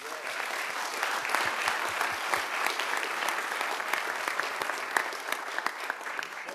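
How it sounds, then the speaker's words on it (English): Audience at a municipal commission meeting applauds local businesses, a steady dense round of clapping sustained throughout at moderate loudness, with a few sharper individual claps standing out. "now I'd like to have everybody give all the businesses a round of applause"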